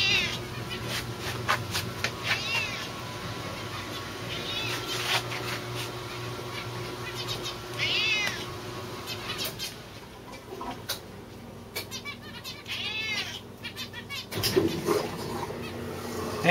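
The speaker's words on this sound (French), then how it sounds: "T'es un beau chat, toi, hein?" A five-year-old pet cat meows indoors, several short, distinct meows near the microphone, with someone speaking softly to it between calls.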